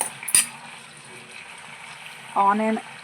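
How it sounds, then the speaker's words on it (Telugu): Onions fry in oil in a kadai with a soft, low sizzle near the pan, marked by a sharp metallic clink early and a short tonal burst near the end. "ఆనియన్ అనేది కొంచెం లైట్ గోల్డెన్ కలర్ వచ్చేంత వరకు ఫ్రై చేసేసుకున్నాను."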